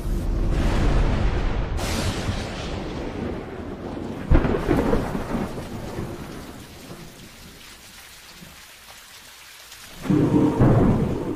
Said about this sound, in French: Et des tempêtes tropicales balaient la planète.